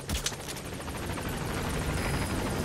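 The support helicopter in Metal Gear Solid V: The Phantom Pain arrives with loud, close rotor thumping, a continuous rapid chop over a broad engine roar that holds throughout.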